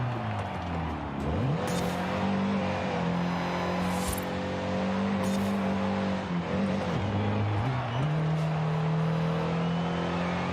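A 1970 Datsun 510 in Forza Horizon 5 races with a steady engine drone, its tires breaking loose in brief squealing bursts amid shifting revs.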